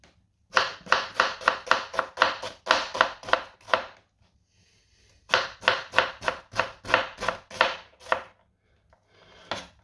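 A kitchen knife chops onions on a cutting board in rapid, even bursts of sharp taps, then a pause of about a second and another quick run of chopping, close and crisp with no talking.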